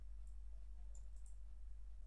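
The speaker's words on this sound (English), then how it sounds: "simply right click" Faint, isolated clicks from a computer mouse being right-clicked, three or four brief taps spaced irregularly over a quiet background hum.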